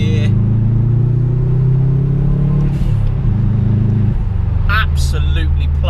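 A Subaru Impreza engine pulls steadily in third gear, a loud continuous drone and rumble from inside the car with a brief dip in pitch midway and a steady cruise toward the end.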